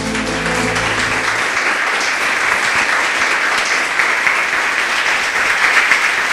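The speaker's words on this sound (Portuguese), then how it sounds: "Palmas para o Senhor Jesus" A church congregation breaks into loud, sustained applause that holds steady throughout, with a voice heard briefly at the very start.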